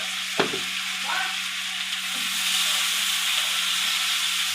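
Thinly sliced potatoes with spices fry and get stirred in a pan, giving a steady close hiss and sizzle with a sharp utensil clatter near the start.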